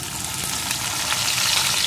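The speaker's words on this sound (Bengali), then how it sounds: "পেঁয়াজ কুচিটাও একটু ভেজে নেব" Chopped onion fries in oil with panch phoron spices for a small-fish curry, making a moderate, continuous sizzle with soft crackles that stays steady throughout, with no talk over it.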